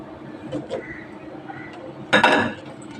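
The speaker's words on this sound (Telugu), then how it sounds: "పప్పులో తాలింపు వేసాను" Hot tempering is poured into cooked amaranth leaf dal, landing as a brief loud sizzling splash near the end, preceded by faint clinks of a metal pan and spoon in a home kitchen.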